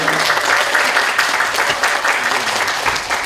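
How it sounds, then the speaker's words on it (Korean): Steady, dense applause from the audience at a national poetry recitation contest in Seosan, a continuous wash of many hands clapping without pause, fairly loud and even throughout. "박수 한번 부탁드리겠습니다"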